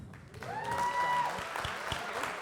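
A gathering at a summer Christian convention claps for Daniel in a short, moderate burst of applause, with a sustained tone and a few low thumps beneath, fading out after a couple of seconds.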